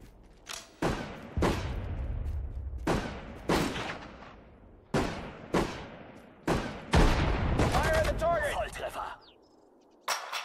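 Infantry gunfire in the WWII strategy game Sudden Strike 4: repeated sharp shots and short bursts at irregular intervals, fairly close, with game voices speaking between them.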